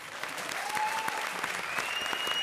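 A studio audience at a Comedy Circus taping claps hard and steadily, a dense, even wash of applause lasting throughout with no voices over it.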